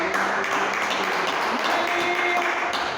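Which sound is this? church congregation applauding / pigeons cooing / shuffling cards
church congregation applauding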